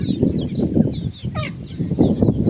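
Chickens cluck and murmur continuously nearby at evening feeding time in strong wind, with a brief higher call cutting through the low, steady flock noise.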